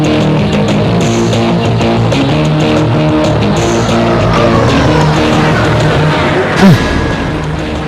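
A car drives fast with a steady, loud engine roar and a brief tire squeal near the end, and voices talk over it.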